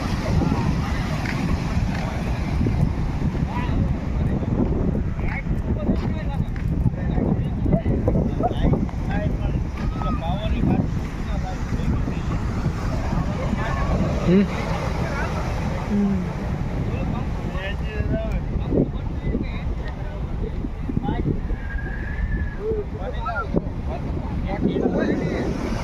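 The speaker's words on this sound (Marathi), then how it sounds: "द्वारकाचा समुद्र." Sea at Dwarka: a heavy, constant roar of surf and wind buffeting the microphone fills the whole stretch, with people's voices speaking faintly underneath.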